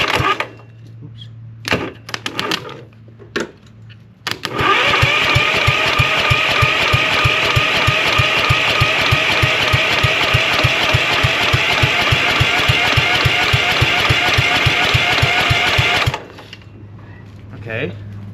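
A Husqvarna CT151 lawn tractor engine is cranked in the dark after a few clicks and knocks. It gives a loud, rhythmic churning that lasts about eleven seconds and then stops abruptly without catching.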